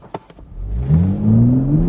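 A Toyota A90 Supra pulls hard from a stop, a few faint knocks giving way to a loud engine roar whose pitch climbs steadily through the gear.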